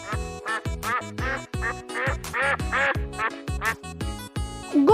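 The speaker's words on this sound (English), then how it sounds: "duck," A duck quacks repeatedly in quick, loud, close calls over a plucked musical backing, with several bursts packed into a few seconds.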